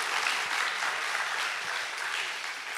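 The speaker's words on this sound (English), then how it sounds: "Let's give another round of applause for" Applause from the audience at a Class of 2014 year-end ceremony, a dense, steady clapping from many hands that fills the hall from start to finish.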